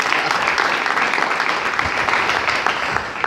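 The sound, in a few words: applause at a sports day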